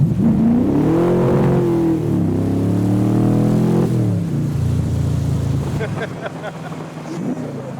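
A car engine revs hard during a clutch kick while driving through rain. The revs are loud and close, climbing and falling in pitch, then ease back to a lower drone with lighter clicks and rattles near the end.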